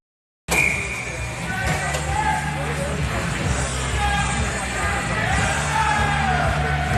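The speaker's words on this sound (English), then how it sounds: "He gets the noise coming out of the small but hopefully vocal crowd" A small student section yells and cheers at a Pelham varsity high school hockey game against Mamaroneck. The crowd noise starts abruptly, then holds as a steady, echoing roar with a commentator talking over it.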